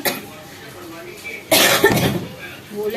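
One person gives a short burst of coughing at mid-clip, close and fairly loud, set against quiet indoor background noise.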